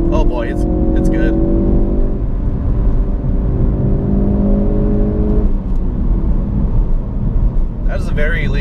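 Ford Focus RS accelerating hard in third gear, heard from inside the cabin as a loud sustained engine drone with rising tones, easing after about five seconds, with a person's speech at the start and end.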